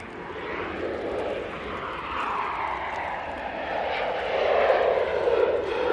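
A Ryanair airliner passing near Manchester Airport, a steady moderate jet engine roar that slowly shifts in pitch and grows slightly louder toward the end.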